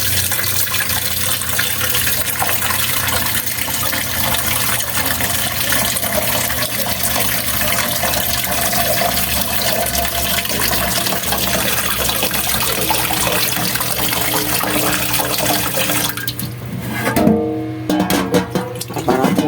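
Tap water runs steadily into a casserole pot, a loud continuous gushing stream that shifts briefly near the end as the flow or pot moves.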